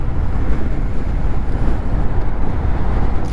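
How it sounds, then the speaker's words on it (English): A car passes a rider on a Harley-Davidson Lowrider S motorcycle on an open road, heard as a steady loud low rumble mixed with heavy wind buffeting, with no clear rise or fall. "we'll let this car go."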